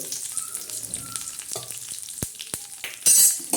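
A tadka of curry leaves and garlic sizzles in a pan for moong and toor dal, with a steady close frying hiss, occasional stirring clinks and a brief louder sizzle burst near the end.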